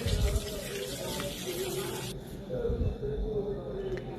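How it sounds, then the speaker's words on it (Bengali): Tomatoes are washed under running water, a continuous splashing and trickling stream that holds steady throughout, with a voice speaking over it at times. "ফার্স্টে সুন্দর করে পানি দিয়ে ধুয়ে নিতে হবে টমেটোগুলো, একেবারে পরিষ্কার করে"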